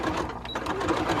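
A sewing machine stitches a fabric face mask with a steady, close mechanical whirr that runs without pause through the moment, with no voices over it.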